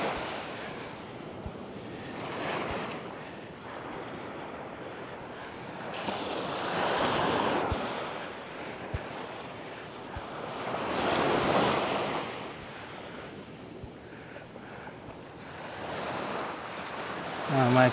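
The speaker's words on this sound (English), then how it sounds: "Now we'll continue walking along the beach." Ocean surf breaking on the sand at Praia de Lourido on Galicia's Costa da Morte, with broad waves swelling and washing in every few seconds under steady wind rumble on the microphone, and no talk.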